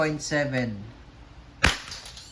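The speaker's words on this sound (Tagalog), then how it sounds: "Semi-automatic muna. Firing." A WE airsoft Glock 35 fires a single sharp semi-automatic shot, a brief crack that follows a short stretch of talking.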